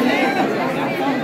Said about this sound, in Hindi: यहाँ पे भी आपको इस तरीके की भीड़ दिखाई देगी